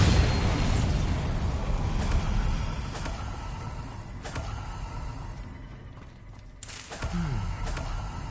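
Spell blasts in the video game Hogwarts Legacy, a dense rumbling roar with several sharp booming impacts and creaking crashes, loud and continuous with no talk.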